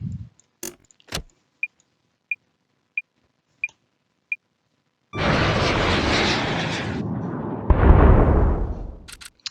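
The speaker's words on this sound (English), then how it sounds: "Sniper missile hit its target head on." A sniper missile launches in a jet combat game with a sudden loud rushing roar that builds and swells to an impact surge, after a series of evenly spaced lock-on beeps and clicks.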